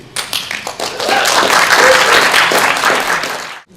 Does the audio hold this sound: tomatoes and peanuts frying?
no